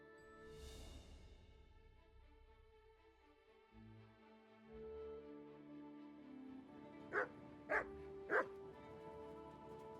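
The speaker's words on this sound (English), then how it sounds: "Here, boy. Here, Mutt" Three sharp dog barks in quick succession from Kingdom Come: Deliverance II, fairly close and clear above a quiet outdoor night ambience of the game, arriving near the end after a calm stretch.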